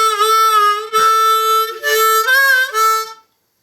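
Harmonica playing the riff from a song: bright, reedy held notes in several short phrases with small pitch bends, close and solo, with no talking.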